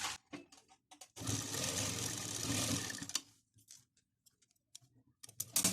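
A sewing machine runs a steady two-second burst of stitching along the side of a small cloth face mask for a child. Quiet clicks and handling noises come before and after.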